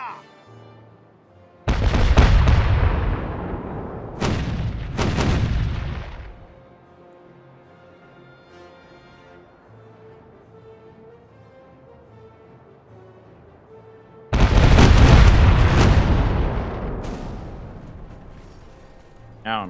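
In the pirate game Caribbean Legend, a ship fires cannon broadsides. Heavy booming volleys roll out in two clusters, then a third loud barrage follows after a quieter stretch, with low rumbling in between.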